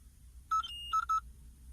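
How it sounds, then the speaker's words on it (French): A car instrument cluster buzzer gives a few short electronic beeps close up, two or three quick tones with a brief pause, over a low hum. "On a aussi le buzzer du combiné d'instruments."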